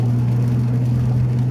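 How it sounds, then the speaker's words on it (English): A Nissan Skyline R32 GT-R's RB26 engine drones steadily from inside the moving car on a foggy road, a loud, constant low hum with no clear rise in pitch. "this RB26, which you can hear in the background, sounds absolutely amazing. It loves to rev."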